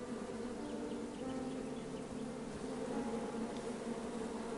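Bees in the King's Quest adventure game drone in a steady, dense buzzing hum that holds evenly throughout, with no speech over it.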